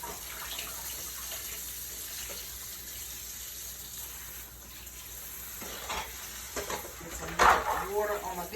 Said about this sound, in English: Water on my dishes over here.